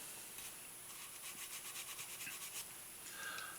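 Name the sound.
brush scrubbing corners of Beretta U22 Neos pistol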